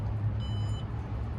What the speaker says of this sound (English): It has that same beeping noise as the Porsche.